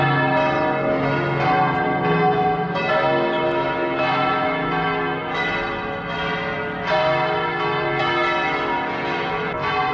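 Church bells in Seville ring loudly and continuously on a Sunday morning, several bells overlapping in a dense, clanging peal with no voices.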